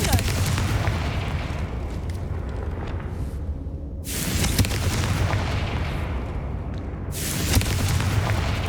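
Confringo fire-blast spell cast in the video game Hogwarts Legacy, a dense roaring burst of booming, crackling noise that runs continuously and loudly, with a brief dip midway before surging again.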